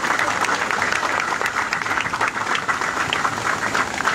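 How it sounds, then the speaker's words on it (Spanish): Crowd in the stands at the opening ceremony of a departmental football tournament applauding the governor, dense clapping from many hands that stays loud and continuous throughout. "que le brindemos un reconocimiento y un fuerte aplauso a nuestro gobernador Silvano Serrano"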